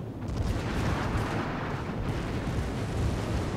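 Secondary guns on the battleship Warspite fire at an enemy ship in World of Warships, a dense, loud rumble of booming shots and explosions rolling together without pause.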